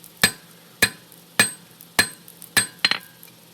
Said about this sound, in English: Using a rounding hammer, the round side, move up into it.